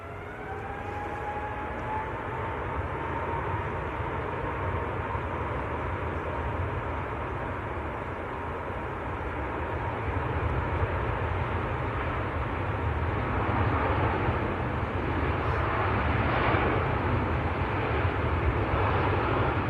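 Airliner departing Manchester Airport for Doha, a steady distant jet engine roar with a rising whine, growing slightly louder toward the end.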